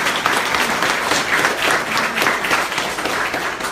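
A campaign kickoff crowd claps and cheers, steady close applause with scattered whoops running continuously for a few seconds.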